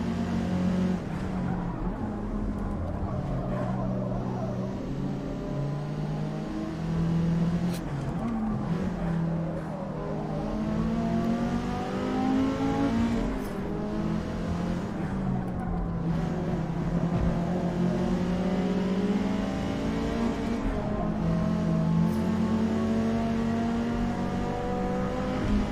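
A race car engine in Forza Motorsport (2023), revving and shifting continuously with rising and falling pitch under steady road and tire noise.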